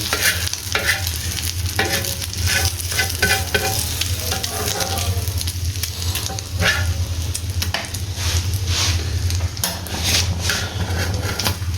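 An egg fries in a pan for a street style chicken egg burger, a continuous loud sizzle with scattered spatula scrapes and clinks against the pan, close up and without talking.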